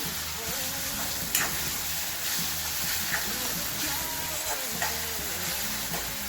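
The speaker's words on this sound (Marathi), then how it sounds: "आपण त्याच्यामध्ये आता 2 चमचे आलं लसणाची पेस्ट टाकणार आहे" Ginger-garlic paste sizzles steadily in a hot pan as it is stirred into reddened masala for an eggplant curry, a constant close frying hiss with occasional spoon scrapes and no talking.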